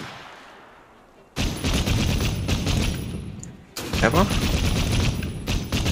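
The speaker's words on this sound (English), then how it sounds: "Are we actually getting to use the first Gatling gun?" Rapid Gatling gun bursts in Assassin's Creed set in Victorian London, two long loud sustained stretches of dense firing with a brief pause between, a voice speaking briefly over the noise.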